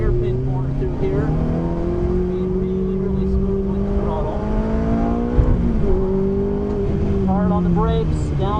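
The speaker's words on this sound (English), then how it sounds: "Back on the brakes hard. Downshifting into second gear for a hairpin corner through here." Race car on a driving course braking hard and downshifting for a hairpin corner, engine pitch sweeping down and blipping between gears, close and loud under steady talk.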